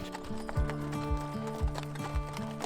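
Hooves clip-clop in a steady walking rhythm, several horses close by with overlapping footfalls on a mountain ride.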